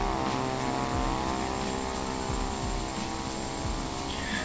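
Turboprop aircraft engine running in Flight Simulator X, a continuous loud propeller drone with a thin high whine and a rumbling low end, steady throughout with no voices.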